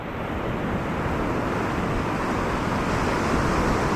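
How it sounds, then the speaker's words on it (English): Surf waves breaking along a sandy beach at Druridge Bay, a steady loud wash of broadband noise with some wind buffeting, continuous and close throughout with no talk. "the waves giving a bit of a fight there now though"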